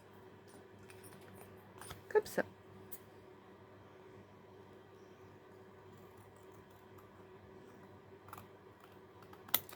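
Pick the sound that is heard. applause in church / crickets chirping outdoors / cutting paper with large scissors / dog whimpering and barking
cutting paper with large scissors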